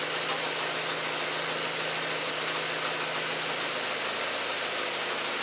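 A CNG bi-fuel turbocharged Volkswagen Jetta engine idles on hydrogen, a steady close-up hum with a low tone that shifts slightly near the end as the engine speed changes.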